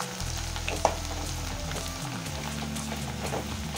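Ingredients for Solapur-style Lamboti maize chivda frying in hot oil, a steady close sizzle with a low hum underneath and one brief clink near the start.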